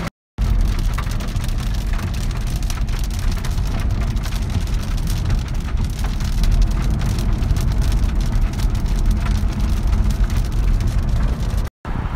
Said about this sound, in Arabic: أمطار خير وبركة